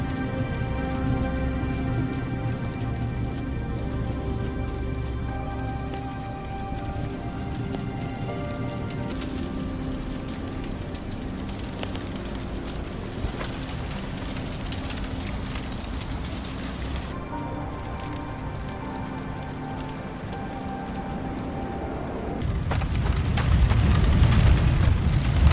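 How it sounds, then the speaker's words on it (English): Several fires of different sizes crackle and roar in the fantasy game Guild Wars 2, a dense, continuous rushing hiss that shifts in fullness and swells louder near the end. "Hear a bit these different flames."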